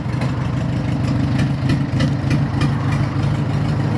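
An Orion 404 40 hp tractor engine idles close by, a loud low rumble with a steady rhythmic chugging that never changes pace.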